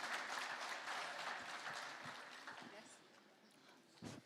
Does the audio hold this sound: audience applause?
yes